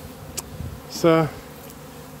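Buckfast honeybees hum continuously around hives stacked on a truck. Someone says a single brief word partway through, over the ongoing buzz.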